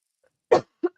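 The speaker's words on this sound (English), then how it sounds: "Cough, cough, cough, cough." Three short, sharp coughs, fairly close and clear, separated by brief silence, with no talking.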